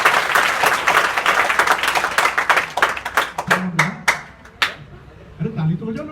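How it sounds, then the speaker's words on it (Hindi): Schoolchildren at an inter school program clap for themselves, a dense crowd of hand claps that thins into scattered individual claps as it dies away, with a teacher's voice speaking over it. "वेरी गुड, ताली बजाओ अपने लिए सारे बच्चे।"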